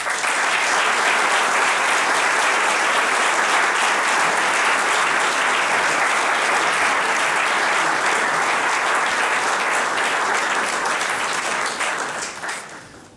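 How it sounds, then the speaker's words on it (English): Sustained, dense audience applause at a baseball hall-of-fame induction ceremony, steady and loud for about twelve seconds before tapering off at the end. "please give a warm round of applause to Mark Langille."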